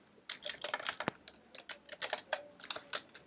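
Java code being typed on a computer keyboard, rapid irregular key clicks close by with one sharper key strike, no speech.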